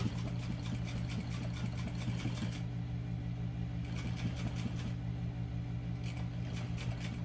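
Sewing machine stitching a seam on a towel topper, a close steady mechanical hum with quick rhythmic needle chatter that pauses and resumes in bursts.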